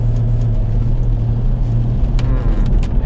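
Mercedes R-Class diesel engine accelerating with a steady, loud low rumble and brief hesitation, close by with no talking.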